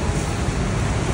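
Rhine Falls in Switzerland roars from very close range, a loud, dense, unbroken rush of falling water that fills the whole moment.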